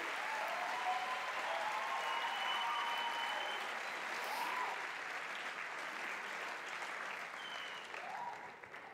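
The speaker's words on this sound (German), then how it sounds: "Und zwar bitte ich mit einem tobenden Applaus" Audience applause rings out through a hall at an amateur evening as a performer is welcomed onto the stage, steady dense clapping holding for the whole stretch and thinning slightly at the end.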